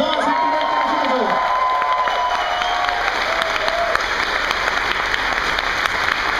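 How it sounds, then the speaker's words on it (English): Audience applause at a morning announcements gathering, dense, steady clapping from a large crowd that carries on for several seconds, with a few voices audible early on. "A very quick applause."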